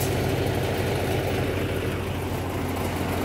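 New Kamdhenu machine with its engine running under light throttle, a steady low rumbling drone held at constant revs, close by and continuous with no talk.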